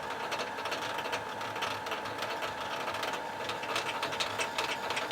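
A sewing machine winds thread onto its bobbin in a steady, continuous mechanical whir with faint ratcheting ticks, close by and running alone without pause.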